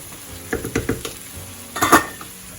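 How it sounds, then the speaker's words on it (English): Chopped onions sautéing in a pan, with a steady close sizzle and a series of spoon stirs and scrapes against the pan, ending in a louder clatter of stirring. "some onions and I'm just sauteing these"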